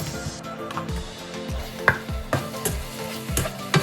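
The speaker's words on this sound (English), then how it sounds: "Now let's add in the shrimp." Shrimp are stirred into a simmering honey garlic sauce in a pan, with a soft continuous sizzle beneath rhythmic scraping and tapping of a utensil against the pan, roughly twice per second.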